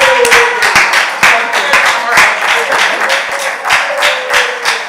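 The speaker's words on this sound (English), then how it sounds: "Let's clap her up." Audience clapping at a youth huddle for a newly introduced director: sharp, fairly close individual claps in an uneven rhythm that keep going, with a voice talking over them.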